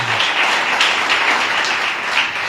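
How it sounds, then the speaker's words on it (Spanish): A church congregation applauds steadily in a dense, continuous wash of clapping, moderately loud and sustained, with a brief low hum at the start. "dale un aplauso al Señor"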